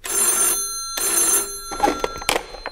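An old telephone bell rings in a Romanian radio comedy play, two loud, close bursts separated by a short pause, followed by brief clattering and knocks.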